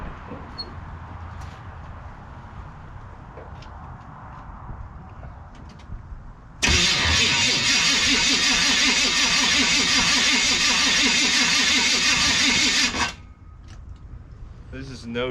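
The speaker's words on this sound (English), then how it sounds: "I'm going to give y'all a cold start here." Cold start of a Chevy square body crew cab dually in 16-degree weather, with no choke and dead accelerator pumps: after quiet outdoor wind noise the engine catches abruptly into a loud, steady, rough idle with rhythmic pulsing, then cuts off sharply.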